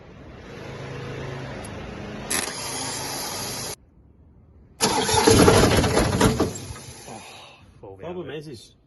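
A hot-wired cherry picker's engine cranks and catches in two bursts, a loud broadband roar from about 2.3 to 3.7 seconds, then a longer, louder run from about 4.8 to 7.5 seconds before fading. Someone talks briefly near the end.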